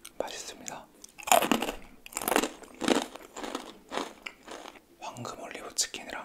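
Close, crisp biting and crunching of fried chicken with a seasoned, Pringles-like batter coating from No-Rang chicken, heard in repeated loud bites followed by crackly chewing and no talking.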